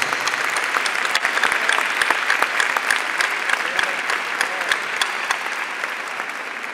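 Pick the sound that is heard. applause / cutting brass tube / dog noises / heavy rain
applause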